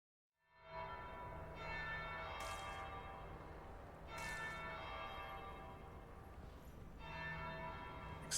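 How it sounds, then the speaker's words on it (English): Church bells ringing steadily in Dragon Age: Inquisition (2014), a layered chime of several bells pealing loudly and continuously, with brighter strikes recurring every couple of seconds and no voices. "I hear bells."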